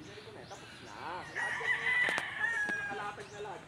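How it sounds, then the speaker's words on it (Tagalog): Roosters crow nearby with a long, loud cock-a-doodle-doo, while chickens cluck in the background and a voice speaks briefly. "Dami manok dito, oh."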